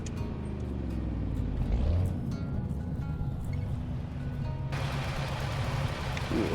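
A Pontiac car engine in American Truck Simulator hums as a steady, continuous drone with a slight swell and shift in tone partway through, with no talking.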